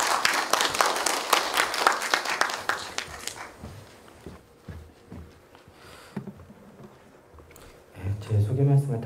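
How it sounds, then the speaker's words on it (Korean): An audience in a hall claps to welcome an elementary school teacher, with dense loud applause for about three seconds, then fading to scattered claps, and a voice speaking near the end. "큰 박수로 맞이해 주시기 바랍니다."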